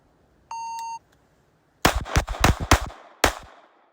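A Gen 6 Glock 17 pistol fires a rapid string of about five sharp, loud shots after a shot-timer beep, in a drill of four shots to the chest and one to the head.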